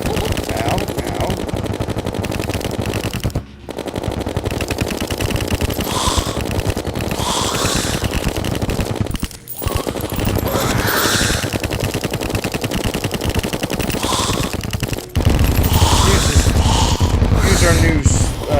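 Minishark gun firing rapidly in the game Terraria, a dense, continuous stream of loud synthetic shots running nearly the whole time with brief pauses, with game effects layered over it.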